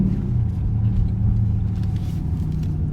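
A 2021 Dodge Durango RT rolling into a Wawa gas station, heard from inside as a loud, steady low engine rumble and road drone that continues evenly without clear revving, no speech.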